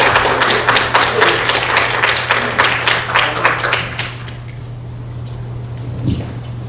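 An audience welcoming a professor to a lecture hall with applause, a dense burst of clapping that fades after about four seconds to room hum.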